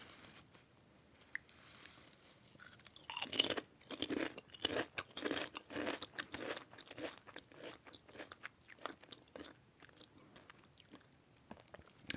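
Japanese potato crisps being eaten up close: quiet rustle at first, then a run of sharp, crisp crunches in a steady chewing rhythm, fading into softer bites near the end.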